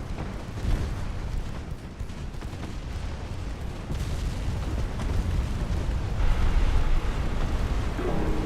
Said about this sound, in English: one of our torpedoes is going to get a lucky hit